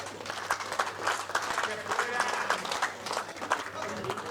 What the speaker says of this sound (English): More round of applause for the umpires.